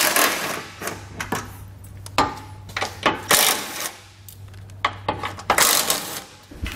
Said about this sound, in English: I like to remove the top outer corner first, and then just thread that back in, just a turn or two